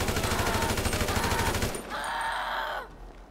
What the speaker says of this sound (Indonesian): Oke, kita tembak ya.